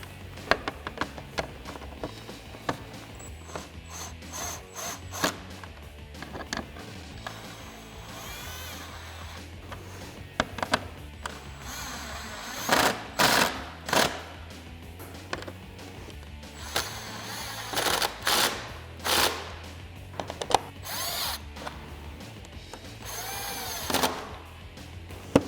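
A power tool with a 7mm socket tightens bolts during a sequential LED turn signal install on a 2015–2017 Ford Mustang, giving loud, sharp whirring bursts that grow more frequent later, close by, with no talking.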